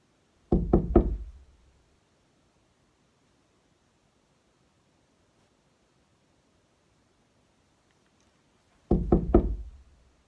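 Knocking on a door in Scream (2022): a quick burst of three sharp raps, a long quiet gap, then another set of three knocks, loud and close.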